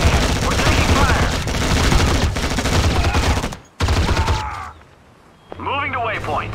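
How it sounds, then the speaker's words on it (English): Rapid bursts of rifle and machine-gun fire in the real-time strategy game Act of War: High Treason, dense crackling volleys with brief pauses, mixed with radio-style unit voice lines. "Soldiers on board, exchanging fire with the enemy."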